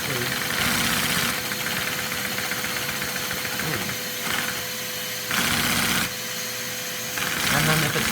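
A small Lego inline two-cylinder OHV vacuum engine runs steadily, a continuous mechanical whirring and clattering with a constant tone, briefly louder in bursts as it speeds up, close by.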